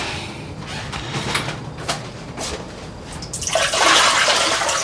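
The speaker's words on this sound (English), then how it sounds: "let's dump out this dirty water one last time" Water is poured out and splashes, building to a loud rushing gush toward the end after some lighter sloshing and knocks.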